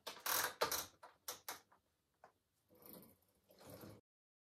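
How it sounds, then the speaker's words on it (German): Domestic knitting machine carriage sliding across rows at stitch size 5, giving a series of loud rattling mechanical sweeps, several quick passes then a longer pause, close and alone. "Jetzt stricken wir 3 Reihen mit Maschenweite 5."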